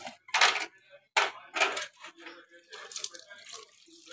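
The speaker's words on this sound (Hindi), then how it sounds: "संभाल कर धोना पड़ता है इसको।" Tap water runs in bursts at a home sink while an item is carefully washed by hand, giving loud splashing gushes that stop and restart, with quieter trickling and light clinks in between.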